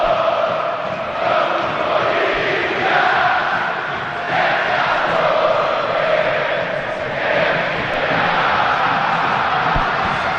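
Corinthians supporters fill a stadium during a Copa Sul-Americana football match against Bragantino with a loud, continuous roar of crowd chanting that swells and ebbs in waves over about ten seconds, with a commentator's voice over it.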